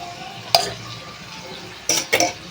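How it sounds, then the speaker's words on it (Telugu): A raw mango and prawn curry dusted with chili powder is stirred in a pan, a soft frying hiss underneath broken by a few sharp scrapes and clinks of the spoon against metal. "ఒకసారి అయితే కలిపేసుకుందాం"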